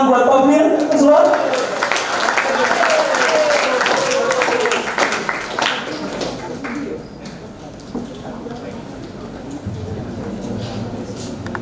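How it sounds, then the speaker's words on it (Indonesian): Audience at a senior high school event in Palembang applauds to welcome the principal, clapping loud at first and slowly thinning out, with a voice speaking over the start and murmurs beneath. "Silakan beri tepuk tangan buat Pak Fir Azwar."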